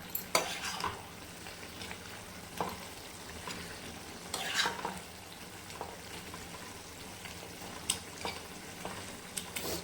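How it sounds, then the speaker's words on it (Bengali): Pieces of fried tangra fish slipping one by one into a pot of fully boiling spicy gravy, giving a soft bubbling simmer with scattered clinks and splashes, fairly quiet and with no voices. "এর মধ্যে আমি এখন একে একে ভাজা মাছগুলো ছেড়ে দিচ্ছি"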